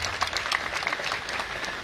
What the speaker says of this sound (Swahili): Hapo tupigie makofi Mheshimiwa Kithure